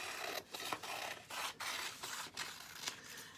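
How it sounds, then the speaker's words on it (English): Paper snipped roughly around a cut-out eye shape with scissors, a run of soft, close, rasping cuts in short bursts with brief pauses between strokes. "So I'm just going to kind of cut roughly around."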